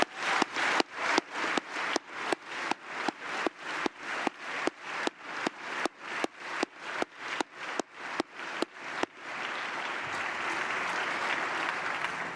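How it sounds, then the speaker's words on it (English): About twenty loud, evenly spaced claps ring out close, then give way to a sustained wash of audience applause at a press club address after a budget, with no talk over it. "If you could please join me in thanking her with a loud round of applause."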